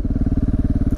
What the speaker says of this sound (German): dass der Sound wieder über die GoPro einigermaßen rüberkommt. Weil dieser Auspuff so pervers ist.